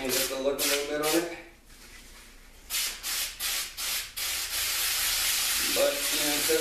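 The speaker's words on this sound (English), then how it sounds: "I have some spray paint up here. Change up the look a little bit on it." Spray paint hisses from an aerosol can onto a Tyvek bivy in short bursts, a couple of quick sprays, a pause, then several rhythmic puffs and a long continuous spray, close and clear.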